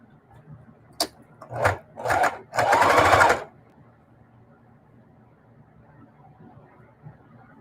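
A sewing machine stitches in the ditch on a quilt in short bursts, a brief whir followed by two quick runs and a longer, louder stretch of stitching, then the room falls quiet.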